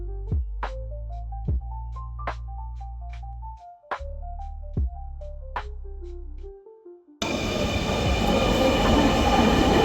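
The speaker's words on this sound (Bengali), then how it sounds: "সো এই ট্রেনটা এখন ওইদিকে যাবে" A Dhaka metro rail train passes: first a sequence of clear electronic chime tones with quiet gaps, then a sudden loud, steady rushing roar as the train sweeps by close.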